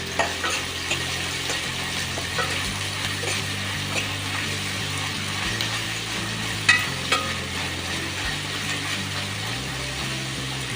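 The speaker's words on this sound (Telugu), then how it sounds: "బిర్యానీ స్పైసెస్ ఫ్రై అయ్యాక ఆనియన్స్ కూడా వేసుకొని మంచి కలర్ వచ్చే వరకు వేసుకోవాలి." Onions frying in hot oil with biryani spices for a mutton curry, a continuous close sizzle with occasional stirring knocks and a low steady hum beneath.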